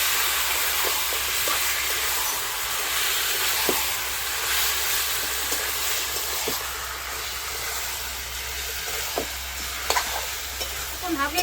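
Green chilli, ginger, cumin, garlic and onion pastes sauté in a pan for a Bengali curry, giving a steady broadband sizzle with occasional spoon scrapes throughout and no talk.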